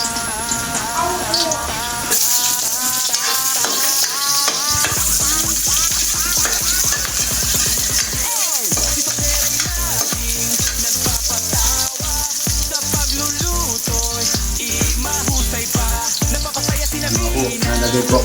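Onions sizzle and crackle steadily in a pan while being stirred, with scraping and clinking of a utensil throughout, close and continuous, and music or voices faintly mixed underneath.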